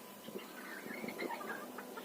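Chickens on a village farmstead cluck softly at evening time, a few faint, scattered calls at close range over a quiet background, with no talking.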